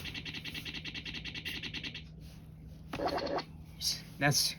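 Forward turntable sample from a Vtech Kidistar DJ mixer toy, a fast pulsing electronic scratch loop for about two seconds, followed by a few separate bright bursts and blips from the toy.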